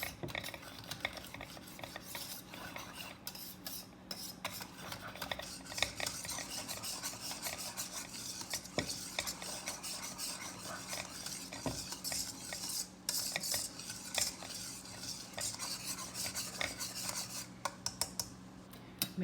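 A whisk stirs a flour mixture in a pot for a chicken pot pie, making a quiet, continuous scraping and swishing with faint metallic clicks against the pan, alone and close.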